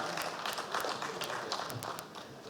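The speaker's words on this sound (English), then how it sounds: "A round of applause for her." An audience applauds a panelist as she comes up to join a panel on infrastructure development, with a dense, steady patter of many hands clapping that holds for a couple of seconds.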